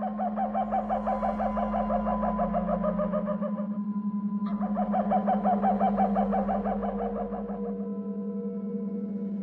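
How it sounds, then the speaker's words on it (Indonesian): Two long, drawn-out crowing calls from a rooster, loud and close, with a brief pause between them and a steady low hum underneath. "Hanya beberapa saat setelah mendengar bunyi berkokok tadi, sekali lagi bunyi yang sama kedengaran."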